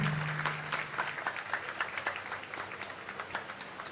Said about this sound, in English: Another round of applause for Simi ji.